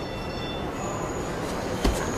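A train in a railway setting, a steady rumbling wash of rolling noise with a faint high squeal, then a brief clunk near the end, fairly loud and continuous with no talk.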